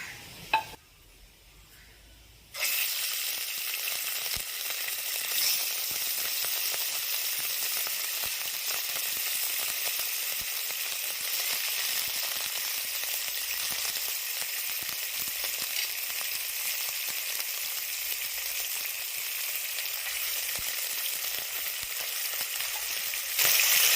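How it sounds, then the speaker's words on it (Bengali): Rohu fish pieces slide into hot oil for a kalia. After a brief quiet start and a small clink, a loud, steady sizzle of frying takes over and hisses on without a break. "তেল গরম হয়ে গেছে, এবার আমি মাছ ছাড়বো।"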